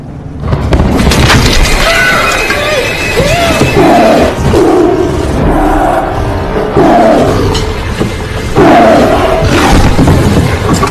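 A tiger roars loudly and repeatedly in a dramatic film scene, with long, rumbling growls that rise and fall over a dense, booming backdrop and almost no pause between them.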